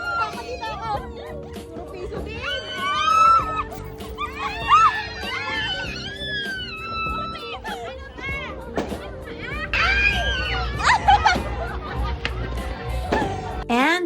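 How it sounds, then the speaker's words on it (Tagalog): Excited children's shrieks, shouts and laughter mixed with overlapping chatter as a family scrambles for tossed treats on New Year's Eve, a lively crowd of voices scrambling together. "Ayan, pakinggan niyo yung agawan namin."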